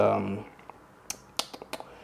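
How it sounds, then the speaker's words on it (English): Keys clack on a Logitech G915 TKL tactile keyboard as a short run of light, separate taps following a brief bit of speech, close but fairly soft. "G915 TKL keyboard. I don't know which version this is. I think this is the tactical one, tactile."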